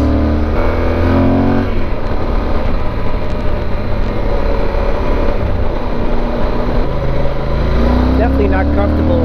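Yamaha Super Tenere motorcycle accelerating on a road, a loud close engine roar rising and shifting in pitch under heavy wind rumble, with a rider talking over it.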